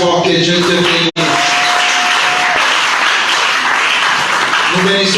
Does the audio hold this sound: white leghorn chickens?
no